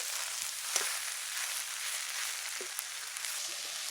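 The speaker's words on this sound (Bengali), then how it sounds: "এইভাবে 2 থেকে 3 মিনিট এইভাবে নাড়তে থাকবো" Taro leaves seasoned with salt and turmeric sizzle steadily in a hot pan, a continuous close frying hiss broken by a few faint scrapes of stirring.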